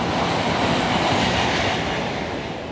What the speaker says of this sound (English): There's trains that are passing in the end of the garden.